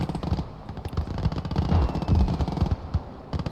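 A 15 cm cannon in the WWII game Gates of Hell: Ostfront fires during a 1v1 match, heavy booming reports spread among dense rattling battle noise and other gunfire, loud and continuous, with no talk.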